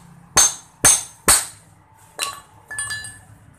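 Wrench working a nut on a Yamaha MX King 150 motorcycle, three crisp metallic clinks in quick succession, then two softer clanks after a short pause, close up and without talk.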